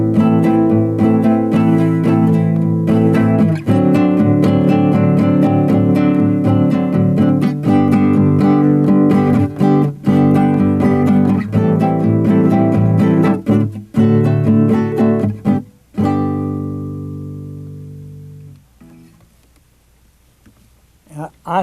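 Acoustic jazz guitar strums a syncopated two-bar pattern, 3-3-2 then 2-3-3, in steady sharp chord hits that sound close and loud, before the final chord rings out and fades into near silence.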